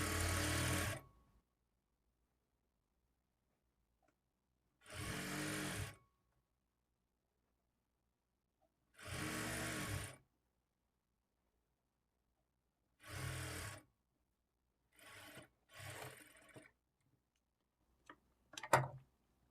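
Sewing machine stitching thread piping onto cloth, running in short separate bursts of steady whirring, each about a second long, with quiet pauses between and a few shorter bursts near the end.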